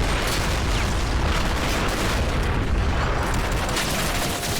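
Grenade explosions and battle noise in the war strategy game Men of War: Assault Squad, a loud, dense wall of booms and blasts rolling on without a break and no voices.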